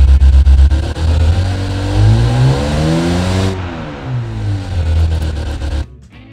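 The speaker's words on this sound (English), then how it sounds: "we are using flat plane crank, not cross plane. That's why it sounds like an Italian V8." A flat-plane crank V8 engine built in Automation, revving hard with loud rising and falling sweeps, a high-pitched Italian-style wail that climbs, drops back, then climbs again before cutting off abruptly near the end.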